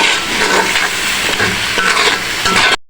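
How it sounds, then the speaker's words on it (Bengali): Spice pastes fry in a hot pan for a home-cooked roast chicken, giving a loud, close, continuous sizzle with scraping stir strokes, then cutting off abruptly at the end. "এখন এটাকে ভালো করে ভেজে নিব"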